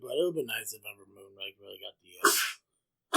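A person talks, pauses, then lets out one sharp, loud sneeze close to the microphone.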